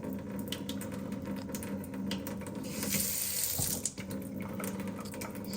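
Water rushes steadily through household lines as a newly installed water heater tank fills, a continuous hissing flow with a faint hum underneath and a brief gurgling dip near the end.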